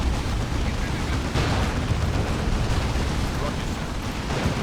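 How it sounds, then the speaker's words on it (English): A burner bomb explodes in a 3v3 Dawn of War 2 match, setting off a loud, sustained roaring blast amid dense battle rumble, with a voice commentating over it. "And there's a burner bomb."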